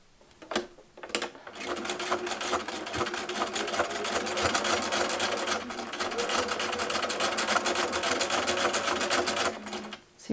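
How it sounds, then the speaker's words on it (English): A sewing machine stitches tote bag handles in a long continuous whirring run with a rapid needle rhythm, close up, starting after a few brief clicks and stopping near the end. "pinning them in place over the stitch line to secure them before you sew"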